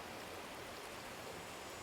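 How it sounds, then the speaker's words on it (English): A flowing stream of water, a dense, steady rushing wash with no breaks, heard close and alone. "just listen to the sounds of the water"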